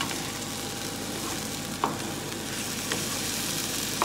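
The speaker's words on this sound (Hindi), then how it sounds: "उस तरफ मेरा चिकन हो रहा है फ्राई" Chicken tikka pizza topping fries in a pan with a steady dense sizzle, close and even, broken by a few faint spatula taps.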